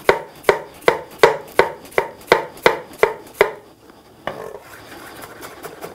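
Onion being chopped with a knife on a cutting board, about ten crisp, evenly spaced strokes in steady rhythm, close and clear, then a pause and softer scraping noises.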